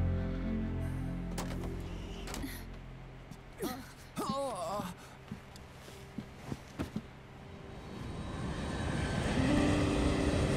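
Nomad aircraft in a Metal Gear Solid 4 cutscene, a low rumbling engine drone that swells louder toward the end, with brief voices, gasps and sharp effects in the middle.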